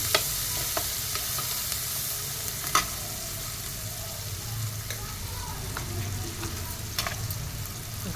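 Onions frying in a pan, about a kilo of them, with a steady, close sizzle and occasional crackles and stirring clicks throughout.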